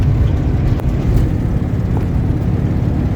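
A 1971 VW Beetle 1300 engine cruising in fourth gear, a steady low droning hum with a fine rhythmic flutter, heard from inside the car at a constant even level with no voices.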